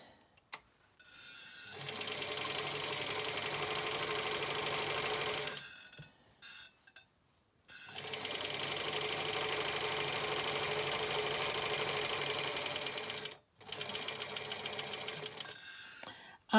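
Sewing machine stitching a quarter-inch seam on a fabric face covering with interfacing, running in two long steady buzzing bursts separated by short pauses and brief stop-start whirs, close and loud with no voices.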